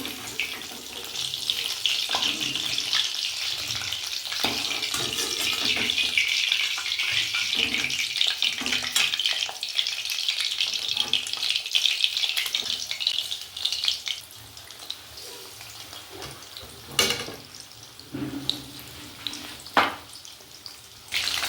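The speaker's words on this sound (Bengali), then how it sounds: "সব চিকেনগুলো ভেজে নিয়েছি ভাজা হয়ে গেল" Chicken pieces for chilli chicken fry in oil with a steady, close hiss that runs the whole time, dotted with occasional clinks and sharper spikes toward the end.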